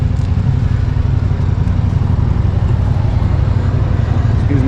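A 2014 Yamaha VMAX motorcycle engine drones steadily while riding, a loud, close, low rumble with constant wind noise and no change in pace.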